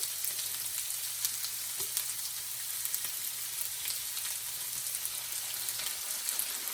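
Stir fry with teriyaki sauce sizzles steadily in a hot pan while it is mixed, a dense crackling hiss with light stirring clicks, continuous and fairly close, no voices.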